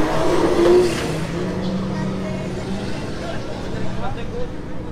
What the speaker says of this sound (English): More RPM, Lester.